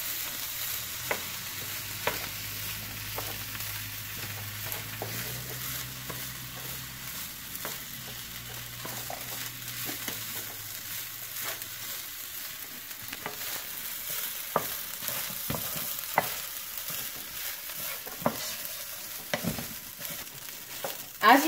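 Egg fried rice stir-fried in a pan: a steady broadband sizzle runs throughout, broken by frequent sharp scraping clicks of a spatula against the pan, close and continuous with no talking.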